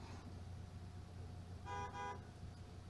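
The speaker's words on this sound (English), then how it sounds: "he went out there and he honked a horn" A car horn sounds outside in two short honks, distant and muffled over a steady low hum of background noise.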